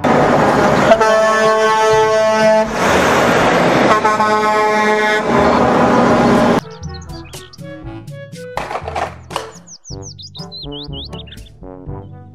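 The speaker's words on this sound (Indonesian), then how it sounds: "Mobil truk kontainer Mack" Toy Mack container truck plays loud, sustained horn-like electronic tones for several seconds, then switches to a run of chirpy, warbling sound effects that fade and flutter toward the end.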